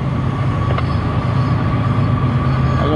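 A CSX westbound freight train passes close by with a loud, steady rumble of wheels and cars, a faint squeal rising briefly over the continuous roar.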